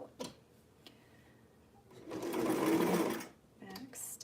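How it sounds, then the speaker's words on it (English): A sewing machine stitches a vintage sweetheart blouse with interfacing on top, running in one steady whirring burst of about a second and a half between quieter handling clicks, with brief talk around it. "now I'm sewing with interfacing on top"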